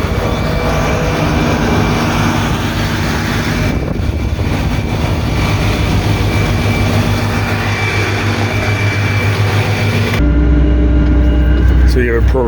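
A Fendt 1167 tractor with a 670-horsepower engine drives in the field, its loud, steady engine drone and rumble filling the whole stretch, with a change in the engine tone near the end.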